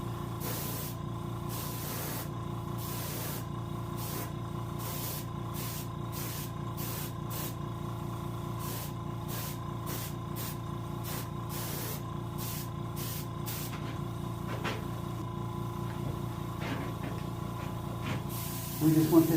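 An airbrush or spray gun applies paint to a King salmon sculpture in a steady hiss, broken by regular pulses as the spray starts and stops. Someone talks over it throughout.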